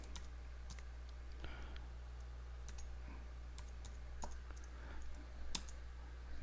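Password typed on a computer keyboard in a quiet room, soft scattered key clicks at an irregular pace with a few sharper taps, faint and close.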